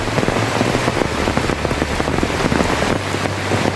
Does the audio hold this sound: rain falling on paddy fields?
yes